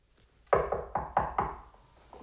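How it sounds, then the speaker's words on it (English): Five sharp knocks on a door in quick, slightly uneven succession, close and fairly loud, then a couple of fainter taps as the sound dies away. "You hear a knock at the door."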